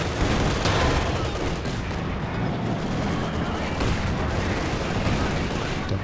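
Dense, continuous gunfire and booming tank rounds from a WWII-style strategy game with Panzer IVs and anti-tank guns, loud and sustained with rumbling low-end impacts throughout.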